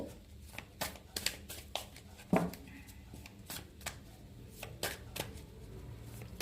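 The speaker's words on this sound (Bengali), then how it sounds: "আর একটা কার্ড নেব" Tarot cards are shuffled and drawn in a quiet room, giving a run of soft, quick card flicks and snaps, close up and fairly faint.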